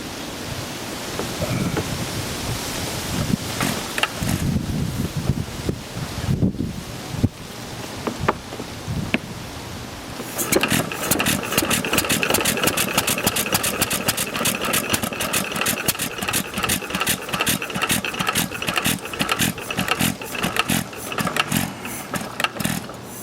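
An upright 1920s Novo 3hp Model S hit-and-miss engine runs nearby after a rough start. It settles into a rapid, steady stream of mechanical clatter and firing beats, with no speech.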